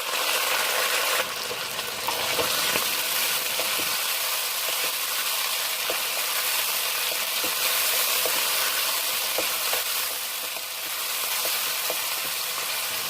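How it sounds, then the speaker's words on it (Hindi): Mutton frying with golden onions in a pot, giving a loud, steady hissing sizzle with occasional faint clicks of stirring, continuous and close. "मटन को अच्छी तरह भूनना है प्याजों में।"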